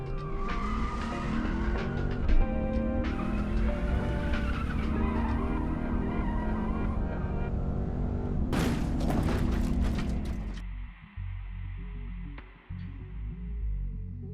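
Diecast toy cars race down a track in a steady rolling, whirring rush that carries on for about ten seconds, broken by a sharp clattering bang near the end before the noise drops to faint rattles.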